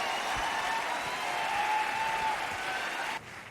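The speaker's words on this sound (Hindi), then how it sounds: "मैं चाहूंगा कि आप जोरदार तालियों से स्वागत करें" Audience applause welcoming family members onto a stage at a company achievement event, steady dense clapping for about three seconds before it drops off abruptly.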